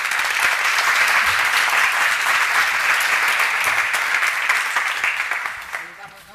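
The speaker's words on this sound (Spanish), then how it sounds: "me gustaría que recibiésemos con un fuerte aplauso a Almudena y a la directora de Trabalengua," An audience at a presentation gives loud, sustained applause in a broad wash of clapping hands that holds steady, then fades out over the final second.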